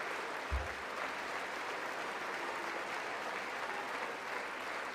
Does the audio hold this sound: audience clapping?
yes